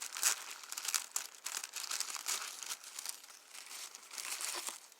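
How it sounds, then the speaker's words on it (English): Paper is torn and crinkled around a sticker on a subscription box package during unboxing, with faint, close, irregular rustling and ripping bursts at low volume. "tear around the sticker"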